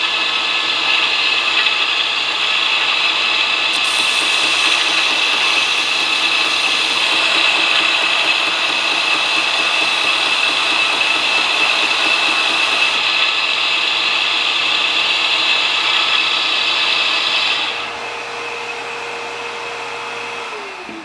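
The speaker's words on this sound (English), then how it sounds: "First thing I'm going to do is go grind these off on the grinder." A belt grinder runs steadily for about eighteen seconds, grinding hybrid knife handle material with a metal part, a loud close whine and hiss that then drops as the machine spins down.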